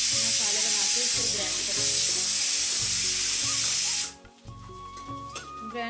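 Spices roasting in a hot pan for a curry gravy in a home kitchen, a loud steady sizzle and hiss with stirring for about four seconds, then cutting away to quieter kitchen sounds.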